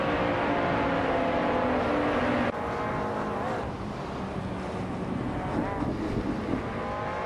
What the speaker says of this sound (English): Oki3 is driving a BMW 125.